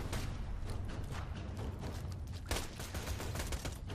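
Video game gunfire crackling in dense, rapid bursts, loud and close, with a sharper volley of shots partway through.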